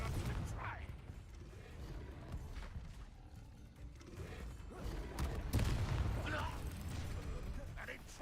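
Confringo explosion spells cast in a video game burst repeatedly as low booms and crackling blasts over a steady background rumble, with voices speaking throughout.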